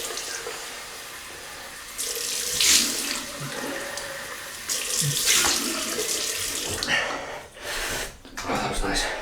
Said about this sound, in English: We'll have a cold water rinse.